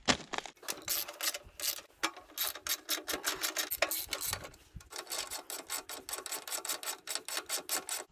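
A hand wrench ratchets rapidly, removing 10 mm bolts from an Ariens 24-inch Deluxe snowblower during a carburetor replacement, with dense repeated clicking bursts close up and no talk.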